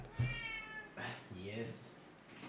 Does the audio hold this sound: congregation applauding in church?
no